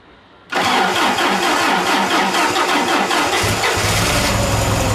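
A large Cummins diesel truck engine cranks and catches abruptly, then settles into a loud, rumbling idle with a steady rough throb.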